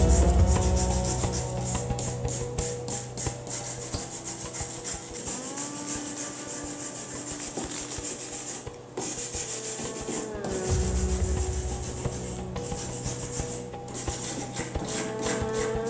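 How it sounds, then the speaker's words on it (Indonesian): Wire brush scrubbing loose cement flakes off a concrete surface, a steady close-up rasping and rubbing that continues throughout with slight shifts in stroke, strong and unbroken. "membersihkan serpihan semen dengan sikat kawat"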